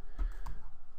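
Keys clack on a computer keyboard while a SQL database table is being edited, a few quick close strokes in a short burst over a low steady background hum.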